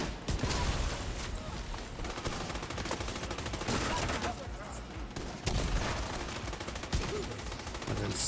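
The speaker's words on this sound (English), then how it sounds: "Who's shooting at me?" Gunfire in the video game The Division 2: dense, sustained bursts of rapid shots crackle across the whole stretch, loud and close, with a few heavier booms standing out.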